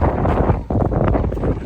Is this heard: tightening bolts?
no